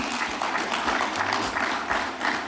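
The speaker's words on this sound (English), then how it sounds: "Another big round of applause for Dr." Audience applause for a presenter at an industry presentation session, a short burst of scattered clapping from a modest crowd, fairly close and steady with no talk.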